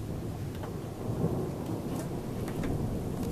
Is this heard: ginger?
no